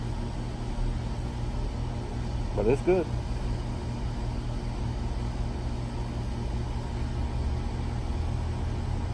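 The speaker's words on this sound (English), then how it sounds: "As you can hear from the hum of the multitude of air conditioning units" A low, steady hum of many air conditioning units drones throughout, with a brief spoken remark partway through.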